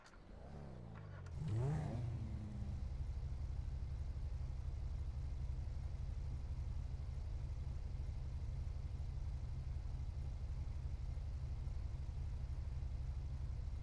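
A police utility SUV engine in a Grand Theft Auto V roleplay game, revving up briefly and then settling into a steady, even mid-pitched drone that carries on unchanged for over ten seconds with no talk.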